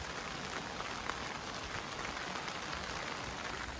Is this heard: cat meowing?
no